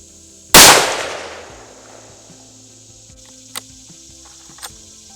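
A single loud, close rifle shot from a Kimber 84M bolt-action fired at a target, a sharp crack with a long decaying tail, followed by two faint small clicks.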